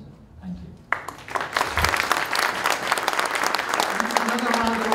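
A lecture audience bursts into loud, sustained applause after a brief quiet start, dense clapping continuing steadily with a voice briefly heard over it.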